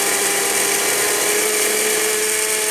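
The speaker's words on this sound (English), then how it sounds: "we're gonna go ahead and crank this blender on" A high-power blender runs continuously with its blades spinning in cavitation, not blending the contents, giving a loud, steady whirring roar without a break.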